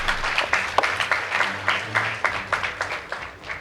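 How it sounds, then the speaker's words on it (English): An audience at a high school debate contest between Upperhill and Lenana schools claps for a team, a moderate, fairly dense applause with rhythmic clap bursts and a faint hum of voices beneath. "Please give them a round of applause."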